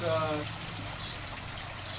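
An aquaponics waterfall keeps up a steady trickle, a brief spoken voice at the start giving way to the even, close splash of running water.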